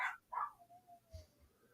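A dog whimpers and whines while its owner is away, with two short yelping cries followed by a thin, drawn-out whine and a few soft low huffs, quiet and close.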